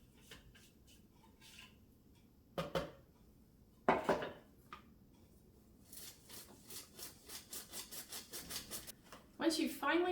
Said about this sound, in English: to sift the almond sugar mixture over the top of that flour mixture